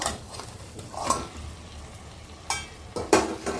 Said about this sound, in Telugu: చికెన్ని ఒక 5 నిమిషాలు వేపుదాము, బాగా పచ్చివాసన లేకుండా.